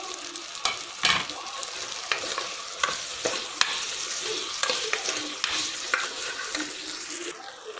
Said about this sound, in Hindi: अब मैं प्रॉन्स ऐड कर देती हूँ।